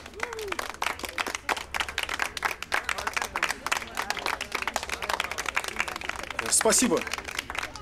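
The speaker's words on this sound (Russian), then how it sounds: "Можно аплодисментами на 3-4." A studio audience claps in rhythmic bursts to back a man's opinion during a televised talk segment, sharp repeated hand claps throughout, with someone speaking over them.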